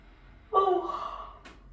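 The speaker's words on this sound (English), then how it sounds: "turn your head to one side and do a nice big yawn" A person gives a big, drawn-out yawn with a sharp onset that tails off into a breathy exhale, close and fairly loud, as part of a relaxation exercise.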